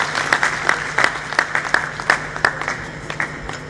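An audience at an academic conference session gives scattered, modest applause after a paper presentation, the individual claps sparse and clearly separated, steady for several seconds, with no talk over it.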